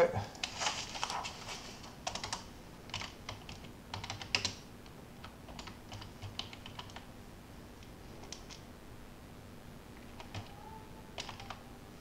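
Keys clatter on a computer keyboard in irregular bursts of quick taps with short pauses between them, close and fairly quiet over a soft steady hum.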